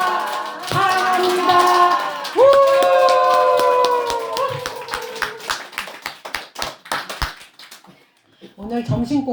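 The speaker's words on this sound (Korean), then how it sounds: "손은 박수를 치고 입은 환호성을 그죠?" Congregation at a Buddhist temple service for the Buddha's birthday breaks into clapping and cheering, with rapid applause rising and then tapering into scattered claps, while someone speaks and some voices call out over it.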